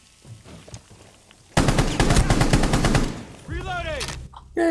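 Rapid automatic gunfire in the tactical shooter Rainbow Six Siege: a loud, dense burst of shots lasting under two seconds after a quiet start, then softer in-game tones and a final sharp sound.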